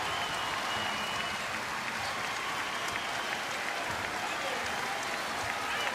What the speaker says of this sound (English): Now the crowd back in it.